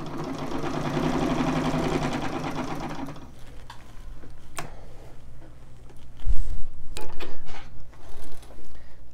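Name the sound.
Singer 66 straight stitch sewing machine stitching, longest stitch length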